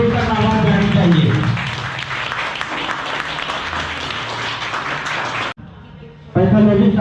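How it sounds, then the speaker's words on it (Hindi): Sustained applause from a crowd at a retirement farewell party, with a voice speaking over the clapping at the start and again after a brief cut. "बिल्कुल तालियों में कोई कटौती ना होनी चाहिए"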